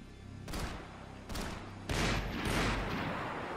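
Gunshots in Max Payne 3, a few sharp close reports fired in quick succession, followed by a denser burst of echoing fire.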